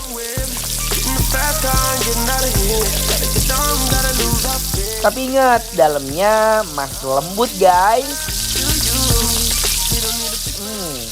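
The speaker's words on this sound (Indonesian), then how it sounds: "Guramenya tinggal kita goreng aja sampai bener-bener crispy ya." Gourami fish sizzles steadily in hot oil, a constant crackling hiss beneath a person talking.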